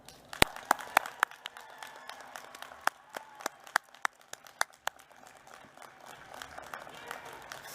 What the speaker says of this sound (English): Give yourselves a loud and well-earned round of applause